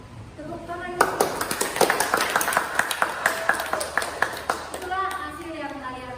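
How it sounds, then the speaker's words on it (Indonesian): Classroom applause erupts suddenly from a group of students, a fast run of claps that builds and holds for several seconds before thinning out, with voices and bright pings mixed in. "Tepuk tangan."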